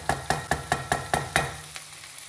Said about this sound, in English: the onions are continuing to clear. The sausage is getting cooked.